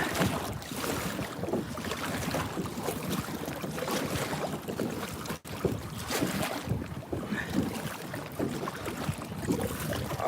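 A small boat is paddled across choppy water, with wind buffeting the microphone and a constant rush of water and air under faint, irregular splashy strokes.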